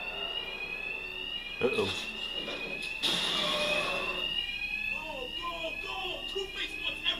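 A fire alarm rings steadily with high sustained tones in Batman: Arkham Knight, a Two-Face thug hideout in the game, while voices speak briefly over it with a few short thuds.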